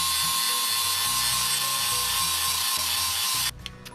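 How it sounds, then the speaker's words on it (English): A blade's top edge is sharpened with steady back-and-forth rasping strokes, close and rhythmic, before the scraping stops abruptly near the end. "Keep the flat edge, keep the bottom of the blade at 90 and sharpen at the top."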